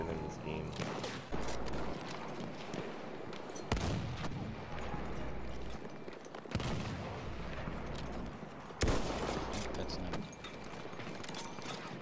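Gunfire in the video game Battlefield 1, bursts of shots and heavy blasts repeating every few seconds, loud and close over rumbling battle noise, with people talking under it.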